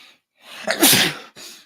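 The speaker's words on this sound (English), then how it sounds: "that sneeze was not planned." A single loud, close sneeze: a quick sharp inhale, then an explosive burst, followed by a brief breath.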